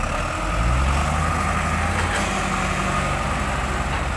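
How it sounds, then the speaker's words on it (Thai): A John Deere tractor engine idles steadily nearby with a low, rumbling drone, running alone without any talk over it. "มาแล้วครับรถไถ"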